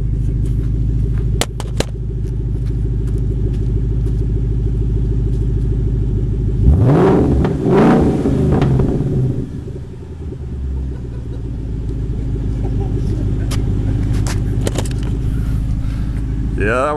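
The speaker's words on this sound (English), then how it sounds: "I'll give her a rev." A 2014 Ford Mustang GT V8 with no mufflers, a full 3-inch exhaust without resonators or cats, idles with a deep loud rumble, then gets one sharp rev that rises and falls before settling back to idle, recorded up close.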